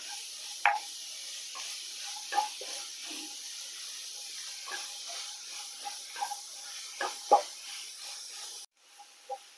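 Vegetables stirred in a pan for hot and sour chicken soup, with a spoon scraping and clinking at irregular intervals over a soft steady sizzle, a few sharper knocks standing out close by.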